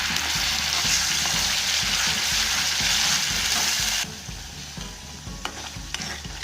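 Ginger-garlic and tomato paste sautés in a pan with a loud, close sizzle and rhythmic stirring scrapes. Partway through, the hiss suddenly drops to a softer crackle while the stirring goes on.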